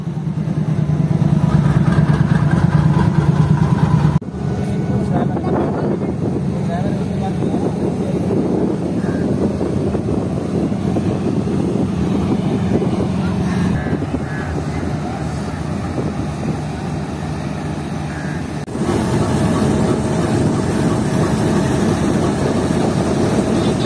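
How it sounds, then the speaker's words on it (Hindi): A Pakistani passenger train bound from Karachi to Lahore pulls in behind an AGE 30 diesel locomotive. A steady, heavy engine rumble mixes with wind buffeting on the microphone, and a voice talks over it. "ट्रेन आ चुकी है और आज ट्रेन की लीड पर लग चुका है लाहौर शहर का AGE 306029"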